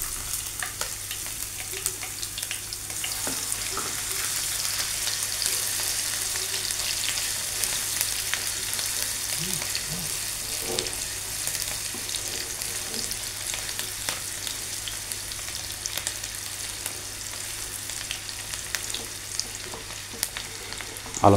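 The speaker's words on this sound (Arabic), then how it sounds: "ننزل البصل والثوم يتشوحوا" Onion and garlic sizzle steadily in hot oil, a continuous close crackle with occasional pops and faint stirring, no one speaking.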